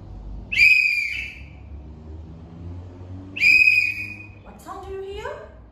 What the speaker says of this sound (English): I can hear the whistle blowing